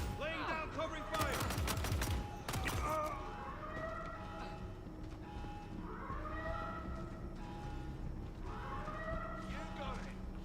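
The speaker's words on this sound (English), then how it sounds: "Laying down covering fire." Video game covering gunfire, a burst of rapid shots in the first seconds, then quieter sporadic bangs under a droning ambient bed with high chirping tones.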